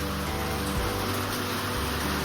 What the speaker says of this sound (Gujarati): વરસાદનો અવાજ સાંભળો, નેચરલી અવાજ.